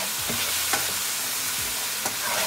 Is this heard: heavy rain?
no